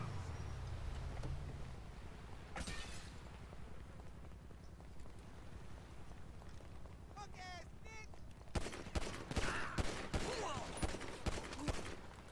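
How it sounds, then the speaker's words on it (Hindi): Gunfire in a GTA 5 roleplay game, scattered shots and short bursts mixed with game sounds, growing louder toward the end, with someone talking over it. "ठीक है, मैं निकल के इस पर फायर करूँगा।"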